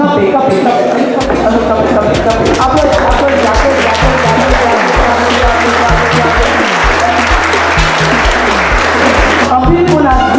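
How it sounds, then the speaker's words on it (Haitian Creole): Audience in a French-language Haitian show applauding loudly, dense sustained clapping close and full, with a voice speaking over it. "nous applaudissons très fort"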